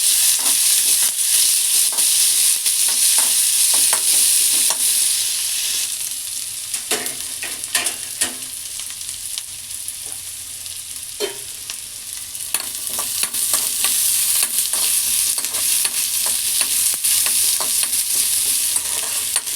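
Onions frying and being stirred in a pan for gongura sesame chutney, a steady close sizzle with scattered clinks and scrapes of a spoon through the whole stretch, a little quieter in the middle.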